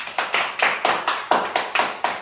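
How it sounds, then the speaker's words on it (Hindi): Audience of listeners clapping together after a Hindi storytelling session, a slow, even rhythm of about a dozen distinct claps, fairly close and alone without talk. "ताली बजाइए"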